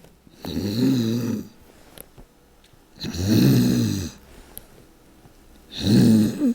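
Several people imitate snoring with eyes closed, giving three long, loud, rasping snore sounds with brief quiet pauses between them.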